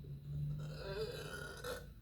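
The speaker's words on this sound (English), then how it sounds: "Too much burps." Burping in bed, a low drawn-out belch rumbling through most of two seconds, close and fairly loud with no talk over it.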